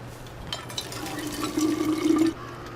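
Water pours into a canteen in the video game We Happy Few, a steady close filling stream that rises in pitch and cuts off cleanly after about a second, over faint background ambience.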